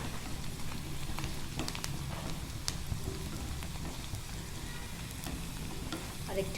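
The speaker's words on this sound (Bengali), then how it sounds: "রসুন আর পেঁয়াজটা ভাজা ভাজা হওয়ার জন্য।" Garlic and onion sizzling and crackling in a pan for naile pata bhaji, a continuous close frying hiss dotted with small pops and light stirring scrapes, with no voices.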